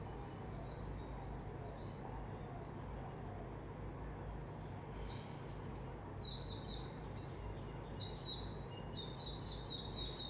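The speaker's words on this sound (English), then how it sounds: "don't know if you can hear those birds, but they're right outside my window" Small birds chirp just outside a window, faint and a little distant, with sparse tweets early on that turn into quicker repeated calls in the second half over a low steady indoor hum.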